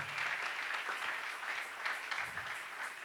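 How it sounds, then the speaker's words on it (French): A church congregation at a Sunday service applauding together, a dense, steady wash of clapping from a large crowd, slightly distant, with a few faint voices mixed in. "Est-ce qu'on peut acclamer pour la parole du Seigneur?"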